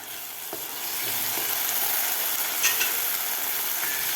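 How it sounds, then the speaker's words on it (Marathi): Tomato puree cooking with onions and green chillies fizzes in a loud, steady sizzle that swells slightly after the first second, with a few soft taps and spatters from stirring. "टोमॅटोची सुद्धा आपल्याला व्यवस्थित फ्राय करून घ्यायची आहे"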